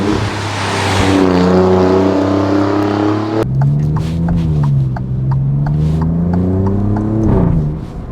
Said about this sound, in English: This is a stock exhaust.